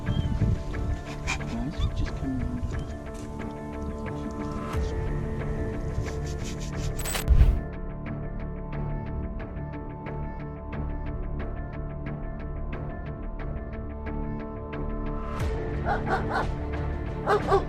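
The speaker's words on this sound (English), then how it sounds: "a homeowner heard his dog barking and discovered a raccoon had entered the yard" A dog barks repeatedly at a raccoon that has entered a backyard, a run of loud woofs and yips with some whimpering, close by and continuing throughout with occasional clatter.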